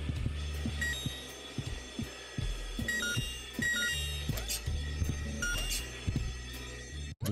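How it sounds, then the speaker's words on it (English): Fire alarm ringing in the video game Horace, a loud, shrill repeating ring pulsing continuously over thumping rhythmic game sounds, with no pause. "The ear-splitting sound was the fire alarm."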